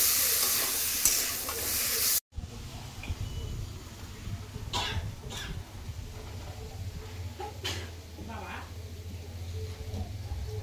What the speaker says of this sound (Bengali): এবার আমি ভালো করে ভাজা ভাজা করে নেব।